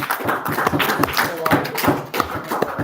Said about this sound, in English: I hope the applause is sarcastic.